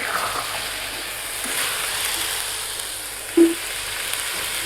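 Chickpeas frying in a pan with a spiced paste while being stirred, giving a steady close sizzle with a brief scrape from the spoon partway through.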